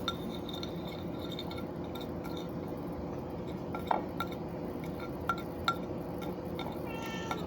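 A sample stirred in a glass, giving faint, sparse clinks and taps against a steady background hiss.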